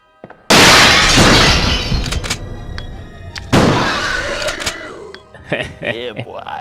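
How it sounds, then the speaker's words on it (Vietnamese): In the horror video game Resident Evil 2, interrogation room glass bursts with a loud, sudden crash, and a second shattering crash follows a few seconds later, each trailing off into tinkling shards, with tonal game effects around them. "Resident Evil 2, tấm kính phòng thẩm vấn."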